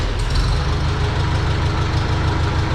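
A small engine that had been sitting dusty, run in neutral, idles close by with a steady low rumble and a faint knocking pulse throughout, with no talk over it.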